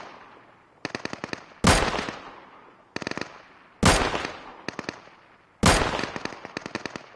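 Gunfire in the video game Deadside, in three bursts of rapid automatic shots. Each burst is followed by a loud, sharp report, close and loud with short pauses between, and no talking.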